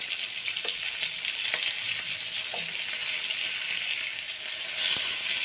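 Fish frying in a pan with curry leaves, a steady close hiss of sizzling oil with a few faint clicks and pops, no talking.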